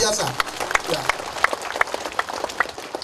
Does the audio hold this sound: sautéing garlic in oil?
no